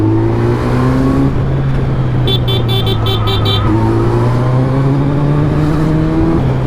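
A Kawasaki Z900 motorcycle rides fast on a city road, its engine a loud steady drone that rises and falls with throttle, while a short series of car horn toots sounds partway through.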